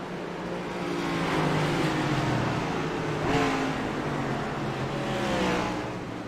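Race cars in a racing video game circle the track at Richmond behind the pace car, a continuous dense engine drone that swells and fades as the pack rolls past, with no voices over it.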